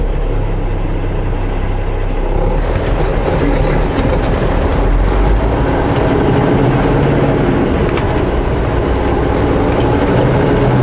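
A big truck's engine accelerates hard on the open road, a loud continuous rumbling drone with rhythmic road clatter, steady and close throughout with no talk.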